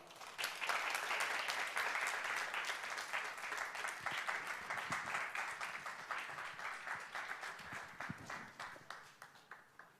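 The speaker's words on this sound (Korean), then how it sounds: "우리 장소망 선교사님 앞으로 나와주실 때 우리 박수로 우리 환영하겠습니다" A church congregation applauds to welcome a missionary forward, many hands clapping in a full, steady wash that gradually loosens into more distinct individual claps and fades toward the end.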